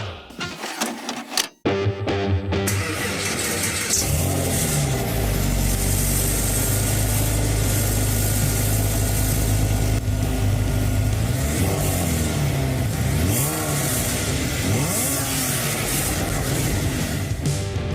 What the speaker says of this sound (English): those startup exhaust sounds, the sounds that you, the people that even make the show possible, send in